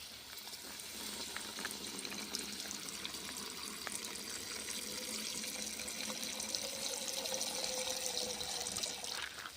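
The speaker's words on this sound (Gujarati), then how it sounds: "હવે એમાં નાખશું અમૂલ ગોલ્ડ દૂધ" Amul Gold milk pours into a pan of sizzling spice masala, a steady liquid rush and crackle running throughout at moderate level before easing off near the end.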